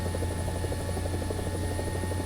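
Continuous rotor thump and turbine whine of a helicopter hovering in War Thunder simulator mode, steady and close with a regular pulsing beat, no voices.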